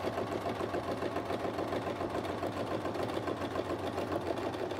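A sewing machine stitches a curly quilting design with a Westalee ruler, running as a steady, continuous whirring hum that stays close and even from start to finish with no talking over it.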